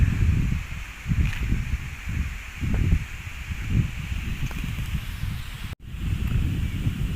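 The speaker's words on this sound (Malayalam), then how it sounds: "നല്ല കാറ്റ്." Gusts of wind sweep through foliage at a riverside resort in Wayanad, leaves rustling in uneven surges, moderately loud and close, with a brief dropout near the end.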